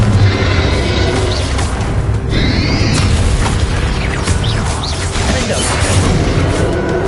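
Confringo explosion spell from Hogwarts Legacy, booming and crackling within a dense, loud wash of combat effects that stays busy throughout.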